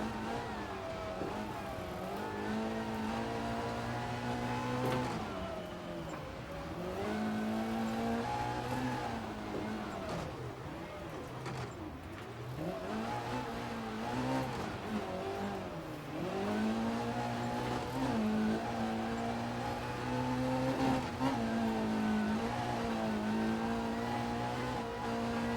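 A rear-wheel-drive Hillman Avenger rally car on snow and ice in EA Sports WRC revs continuously, its engine note rising and falling through gear changes, loud and close throughout.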